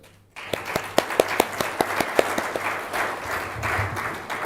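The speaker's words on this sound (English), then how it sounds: "Let's applaud." An audience applauds at the close of a panel session at a global health research conference. The clapping starts abruptly after a brief hush, with distinct individual claps at first that blend into a steady wash of applause.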